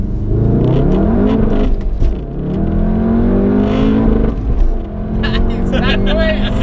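A Volkswagen Golf GTI Clubsport S engine revs and climbs through the gears close up from inside the car, rising and falling surges of engine note under excited voices talking.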